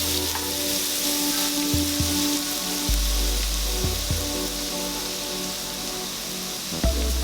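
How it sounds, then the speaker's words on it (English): Garlic sautés in a pan for garlic mushrooms with a loud, continuous crackling sizzle, close up, broken by a few low knocks of the pan or spatula. "We will go ahead and saute our garlic till it's a little bit nice and brown"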